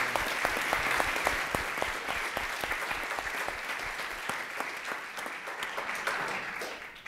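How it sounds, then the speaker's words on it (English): An audience at a public panel event on policing and racial violence claps for the panelists, a dense burst of applause with sharp individual claps standing out, fading slightly toward the end, no speech. "Maybe we can just give our panelists one more round of applause"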